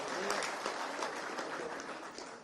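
Audience applause at a business gathering in Bogura, a steady wash of clapping hands filling the room for the full stretch with no pauses, a voice faintly audible beneath it.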